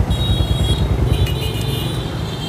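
A black-and-silver Yamaha R15 V2 motorcycle with a 150 cc engine runs smoothly at idle nearby, a steady low putter with a faint higher whine over it and no talking.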